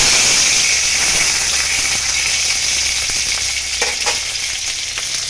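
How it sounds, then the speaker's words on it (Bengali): Tomato tipped into black cumin seeds frying in hot oil gives a steady, close, loud sizzle with scattered small crackles and spits throughout. "কালো জিরেটা হয়ে গেছে। এবার আমি দিয়ে দেবো টমেটো।"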